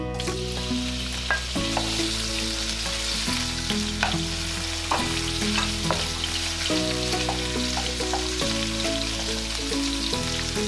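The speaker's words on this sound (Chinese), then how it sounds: "好，油热之后呢，我们下入五花肉。" Pork belly pieces frying in hot oil in a wok, a continuous close crackling sizzle with scattered pops and spatter running steadily throughout, with music playing underneath.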